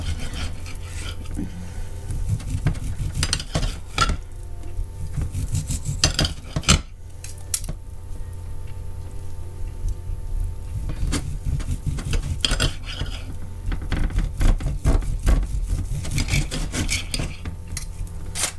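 A knife carves homemade roast beef on a board in close, repeated rasping strokes, with scraping and occasional sharp knocks in an uneven rhythm.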